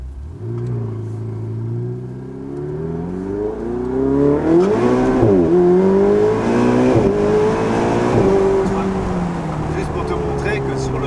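A Ferrari 488 Spider with its exhaust valves open accelerates on the road, its loud, close engine note climbing steadily in pitch through the gears, with people talking inside the car.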